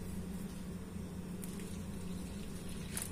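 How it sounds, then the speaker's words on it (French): Boiling water poured from a kettle onto flour mixed with a teaspoon of salt, a steady low pouring rush lasting a few seconds, close and even, with no talking. "Et maintenant, on va rajouter"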